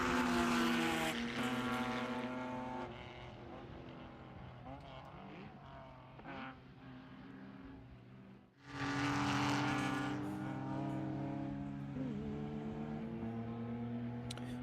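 Race cars at Hallett in the GP1 race roar past in overlapping waves of high-revving engine whine, with a deep dip and a fresh loud surge partway through. A commentator talks over the racing.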